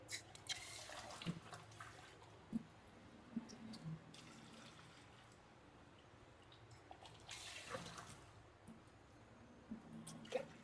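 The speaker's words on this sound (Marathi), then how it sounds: "आता यामध्ये पाणी ऍड करते." Water poured into chickpeas in a pressure cooker, heard as faint splashing and dripping with soft bursts of pouring near the start and again around the middle, otherwise quiet.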